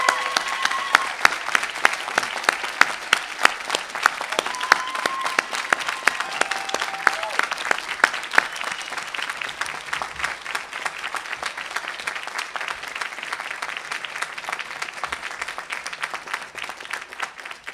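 Sustained applause from a ceremony audience at a Dartmouth medical school class day, honoring friends and family. A dense crowd of clappers keeps up an even roar for nearly eighteen seconds.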